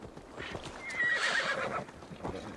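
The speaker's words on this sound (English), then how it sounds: "Give me my horse." A horse in Assassin's Creed Valhalla on PS5 arrives with steady clip-clop hoofbeats and a loud whinny, close and clear with no talk over it.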